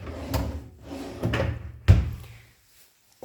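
Small drawers in an apartment wardrobe unit slide open and shut several times, ending in a firm close followed by quiet, heard nearby without any talking.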